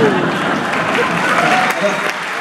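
A concert crowd at the Olympia applauds in a dense, continuous wash of clapping that fills the hall, with a few faint voices and whistles mixed in.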